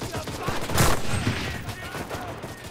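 Gunfire in the shooter game Enlisted, with a dense spread of distant and mid-range shots and a louder crack near the start, over a busy battlefield background.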